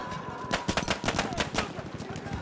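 Rapid automatic gunfire in a video game, a fast string of sharp cracking shots fired in a few bursts at close range, dense and steady for about two seconds.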